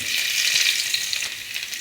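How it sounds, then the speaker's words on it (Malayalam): Mustard seeds splutter in hot coconut oil, a loud, dense, continuous crackling sizzle heard up close with no voices. "അല്പം വെളിച്ചെണ്ണ ഒഴിക്കുന്നു. കടുക് പൊട്ടി വരുമ്പോൾ"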